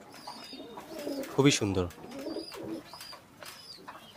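Modified satinette pigeons, a pair currently sitting on two eggs, coo softly in a low rolling burst near the middle, with faint chirps around and a person speaking briefly nearby.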